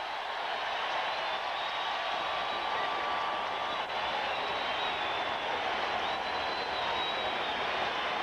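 A Broncos home crowd roars at Mile High Stadium during a 1991 NFL game against the Bengals, a steady, unbroken wash of cheering that holds at an even level throughout.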